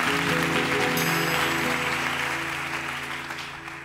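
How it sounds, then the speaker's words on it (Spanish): Audience applause during a Spanish flamenco-style stage adaptation of La Gitanilla, a dense sustained clatter of clapping over lingering music tones, loud at first and slowly fading. "Hazme un aplauso a Juanito."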